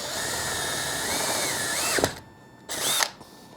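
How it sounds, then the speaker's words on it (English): A power drill bores the main-size hole into a motorcycle handlebar for a clutch pin, whining loudly and steadily with a rising pitch, stopping briefly and then giving a short second burst, close up. "Now I'm gonna drill the main size hole."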